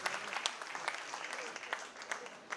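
Applause from a football gala crowd in Vicenza continues under a voice speaking, the clapping scattered and moderate, with a few sharper claps standing out.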